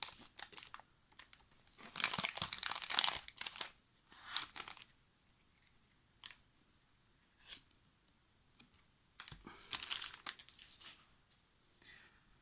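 A Pokémon card booster pack wrapper is crinkled and torn open in several bursts of close, quiet foil rustling separated by brief pauses.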